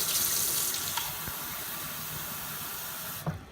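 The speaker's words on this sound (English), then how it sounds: "I'm going to go ahead and get a cup of cold water. Just tap water, but get as cold as you can." Cold water runs from a tap into a coffee mug, a steady close hissing stream that softens slightly as the mug fills, then cuts off with a brief clunk at the end.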